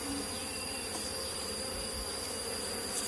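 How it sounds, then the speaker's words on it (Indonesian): Steady, dense buzzing of an Asian honeybee (Apis cerana) colony in a forest fills the whole clip, a constant close hum with no voices. "kalau terjadi agak-agak ribut di koloni lebahnya"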